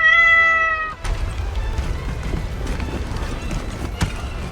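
A cartoon-style cat meows once, loud and close, with a drawn-out wavering cry in the opening second, then gives way to a dense, noisy backdrop of thumps and clatter.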